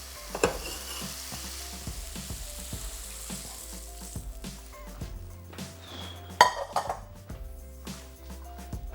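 Cooked chickpeas, fried until only oil remains, are scooped out of a pan, with a spoon clinking and scraping against metal in irregular taps over a faint sizzle, close and alone.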